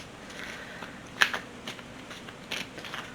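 Oracle cards are shuffled by hand in a quiet indoor setting, giving soft, irregular papery flutters and a few sharper riffles at close range, with no speech.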